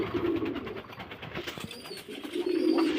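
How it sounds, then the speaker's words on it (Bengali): A Gorra pigeon coos nearby in low, throaty rolling phrases, one burst at the start and another toward the end, with quieter bird sounds between. "এটা কিন্তু বন্ধুরা গররা কবুতর"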